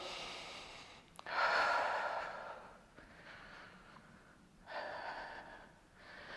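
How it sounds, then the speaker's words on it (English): Heavy breathing during a core workout comes as loud, rough gasps and exhales close to the mic, in two long bursts with a steadier breath between them. "Breathing."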